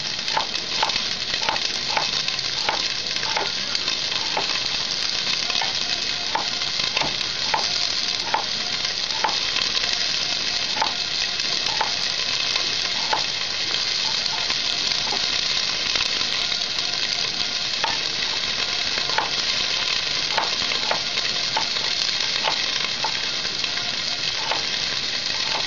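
Onions for chutney frying and slowly browning in a pan, a steady loud sizzle throughout with scattered sharp clicks and taps of a utensil against the pan, no voices.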